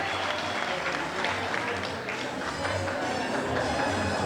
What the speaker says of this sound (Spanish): por favor un fuerte aplauso para ella y su apoyo